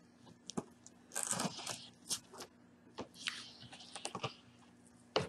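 A knife slicing through the rib tips off a St. Louis style slab of pork ribs, giving a few close, crunchy cuts and cartilage snaps in short bursts with quiet pauses between them.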